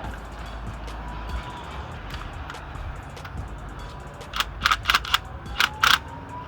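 A ratchet wrench tightens new spark plugs on a Nissan Maxima, with quick bursts of clicking toward the end over a low garage background hum, close by.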